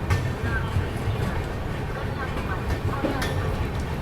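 The Chennai Duronto Express rolls slowly through Agra Cantt station, a steady rumble and clatter of rail cars under continuous talking and station noise.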